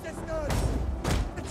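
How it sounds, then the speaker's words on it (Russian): Whistling shot volley in a strategy video game battle with a Slavic faction: thin, falling whistles followed by two heavy impact bursts, loud and close, with voices behind. "Давай свистящий выстрел."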